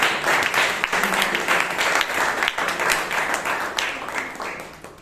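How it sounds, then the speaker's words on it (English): Members at a Toastmasters meeting in Bangalore give the committee a lively round of applause, dense hand claps rising and falling with a few louder claps standing out, and little talk over it. "I think the committee deserves a round of applause."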